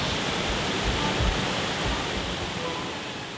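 Small waterfalls on Cranberry Creek in a wild woodland preserve give a steady, close wash of rushing water, broad and unbroken with slight swells, with no voices over it.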